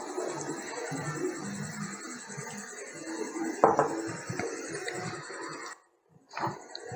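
Fish puttu is stirred with garam masala in a pan, a spoon scraping and clinking against the metal at close range, with one sharper knock midway and a brief pause near the end.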